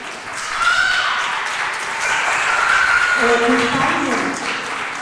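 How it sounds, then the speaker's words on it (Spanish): Applause at a church Bible study gathering rises into steady congregational clapping, with a voice speaking or calling out over it in the second half. "Pues le damos un aplauso al Señor."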